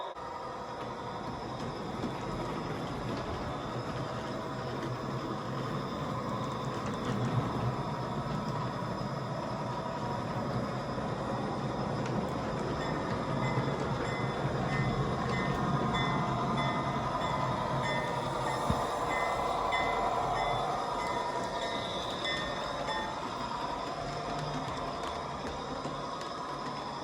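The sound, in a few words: model trains running over track crossings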